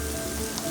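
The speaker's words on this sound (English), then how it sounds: "Oh, do you hear the sizzle?" Steady crackling sizzle of onion frying in a hot pot, a dense hiss with no voices.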